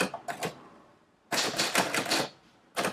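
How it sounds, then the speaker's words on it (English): Manual typewriter keys strike in quick uneven bursts, a short cluster of clacks, a pause, then a louder dense run of typing and a final burst, close and alone with no voices. "I always write on a typewriter."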